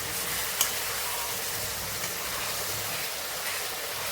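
Tomato frying in a pan during preparation of a spicy chital kaliya (knife fish curry), giving a steady, fairly loud sizzling hiss with faint stirring underneath and a brief tap early on.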